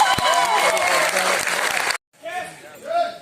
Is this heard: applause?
yes